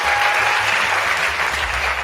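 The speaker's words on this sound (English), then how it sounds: "Wait for that applause, Lily." Studio audience at a late night TV show breaks into sustained applause, a dense, loud wash of many hands clapping with a few faint cheers.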